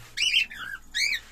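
Male cockatiel courting a female, giving two bursts of bright, warbling whistled calls close by, with a short pause between them; no talking.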